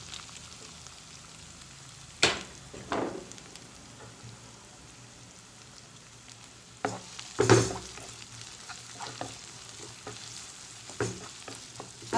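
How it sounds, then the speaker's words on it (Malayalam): Finely chopped onions, two of them, fry in hot oil in a pan for Punjabi chole masala, giving a soft steady sizzle broken by a few louder stirring scrapes and clatters. "ഒരു 2 സവാള ചെറുതായിട്ട് അരിഞ്ഞത് ഇട്ട് കൊടുക്കാം"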